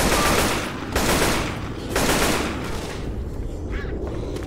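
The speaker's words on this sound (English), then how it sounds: "Machine gun." Sustained automatic machine gun fire in Left 4 Dead 2, loud and close, arriving in three dense bursts of roughly a second each before easing into a quieter rattle with faint background noise.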